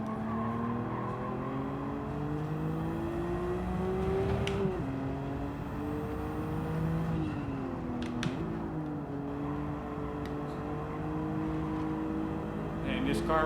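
A racing car in Gran Turismo 7 drives a track, its engine note rising and dropping through gear shifts, with brief tyre squeals and a voice talking over it.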